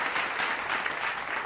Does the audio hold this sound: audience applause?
yes